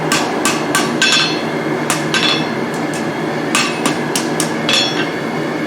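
A hammer strikes hot steel tongs on a rounded anvil in a blacksmith's shop, giving a steady run of sharp, ringing metallic blows, close and loud, with no talking.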